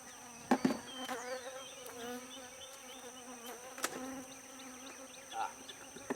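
Honey bees buzz around an opened hive during an inspection, a close, wavering drone with sharp bumps and knocks from handling the hive parts.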